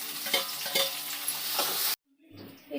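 Tomatoes frying in a pan for a Karavali-style fish curry, a loud hissing sizzle with scraping stirs that cuts off abruptly near the end, leaving a faint quieter sizzle.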